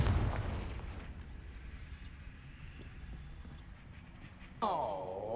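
A Confringo fire spell blasts in Hogwarts Legacy, a loud booming burst at the start that rumbles down under game ambience, followed near the end by a sweeping tonal magical whoosh.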